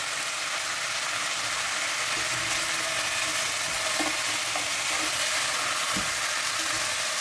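Turkey pieces frying and browning in a pan, a steady close sizzle and crackle throughout with a few soft clicks of a utensil, no talking.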